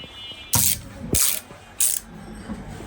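A 1/4 inch drive ratchet handle from a 77-piece socket set clicks in short loud bursts, three quick runs of pawl clicks separated by brief pauses, close and without speech.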